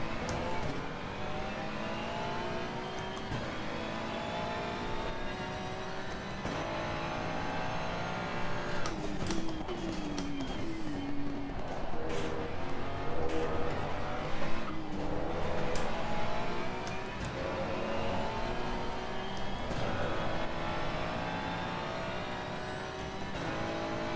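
Ferrari 296 braking hard and downshifting all the way to first gear on track, engine note falling and blipping through the gears, loud and close from onboard, with sustained engine roar throughout.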